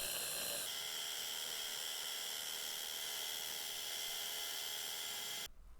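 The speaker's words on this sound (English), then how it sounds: "Next, you drill the second hole using the stainless steel anchor as the guide." A power drill bores a hole for a pergola shade canopy, guided through a stainless steel anchor, giving a continuous high-pitched whine that runs steadily for several seconds before cutting off.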